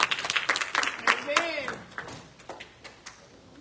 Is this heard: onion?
no